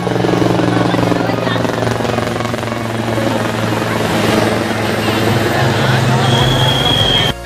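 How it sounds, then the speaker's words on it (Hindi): A helicopter's rotor chops and drones loudly and continuously over a crowded Magh Mela bathing festival at the Sangam, with crowd chatter and a voice talking in Hindi beneath the roar. "यहाँ पर हेलीकॉप्टर भी चल रहे हैं बराबर"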